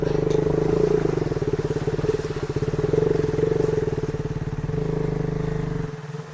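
A KTM Duke 200 motorcycle riding off-road, its engine putting out a loud, steady, throbbing drone close by that rises and falls slightly as it runs, then fades at the end.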